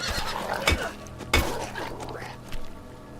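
A horse whinnies in the survival video game HumanitZ, two short loud neighs close by with a fainter third near the end, over a busy background of game ambience and possible footsteps.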